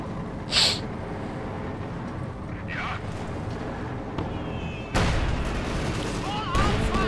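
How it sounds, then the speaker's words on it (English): Incendiary artillery barrage in the video game Company of Heroes 2, dull booms and rumbling impacts under a constant battle din, with a heavier blast halfway through and someone talking at times. "Another incendiary artillery barrage."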